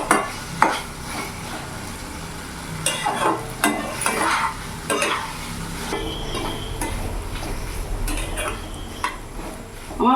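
Vegetarian potato curry (aloo dum) is sautéed and stirred in a pan, with a low sizzle under repeated scrapes and clinks of the spoon against the metal, some sharp and some softer.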